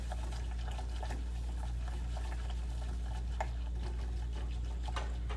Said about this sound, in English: So as I pour them in, I whisk because I don't want it to clump up or have any clumps.